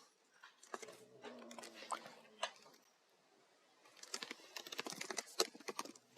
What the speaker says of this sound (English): so let me type that out more